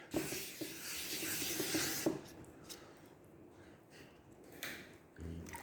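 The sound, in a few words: rubbing down primer on a Honda ST 1100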